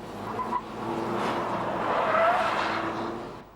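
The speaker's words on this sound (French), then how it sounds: "Seul point positif, le freinage qui tient le choc." A Dodge Caliber weighing about 1400 kg brakes hard with a rising tire squeal and road noise, swelling to a peak and fading over a few seconds, with no talking.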